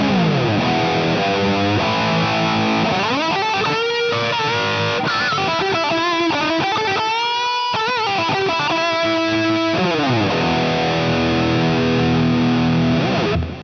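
A heavily distorted, high-gain electric guitar, a Mooer GTRS S800 with built-in amp modeling on a high-gain J900 setting, plays riffs and sustained notes with bends, loud and continuous throughout, with no voices.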